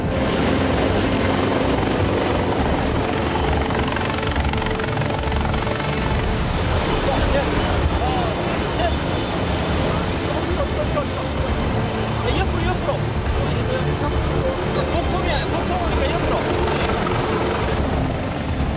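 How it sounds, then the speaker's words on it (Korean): Loud, constant thudding roar of a rescue helicopter hovering close overhead during a mountain rescue on Bukhansan, its rotor wash droning without pause while voices are faintly buried beneath. "거센 헬기 바람으로 작업은 좀처럼 쉽지 않습니다"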